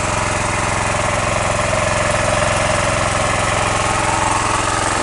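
A Dodge Charger engine idling, a loud steady rumble with a constant throbbing pulse throughout and no talk over it.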